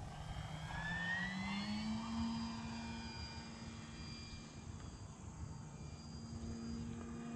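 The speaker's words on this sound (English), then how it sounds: "Beautiful plane." Model Arrows Husky RC airplane flying overhead, a steady whining engine drone with a shifting pitch that rises and falls as it passes, continuous and moderately distant with no talking.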